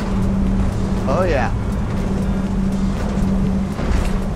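An Axopar 29 boat with twin outboard engines runs at about 46 knots in swell, making a loud steady engine drone with rushing wind and water, while a voice speaks briefly over it.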